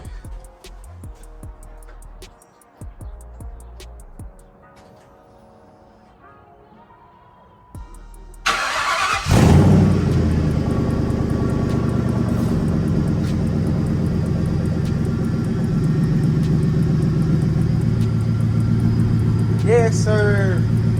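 A car engine, freshly overhauled and prone to rough idle and poor acceleration, goes from quiet to a loud, steady running drone after a sudden start around the middle, with voices nearby.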